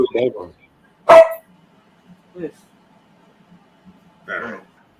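A dog barks close by, one sharp loud bark followed by a few fainter yips and whimpers spread out over several seconds, with brief snatches of people talking at the start.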